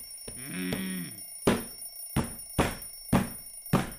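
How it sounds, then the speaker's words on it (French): An alarm clock rings in a quiet bedroom at nine in the morning, starting with a warbling electronic tone and then giving way to a steady series of loud, evenly spaced ringing strikes, close and alone. "Le réveil sonne"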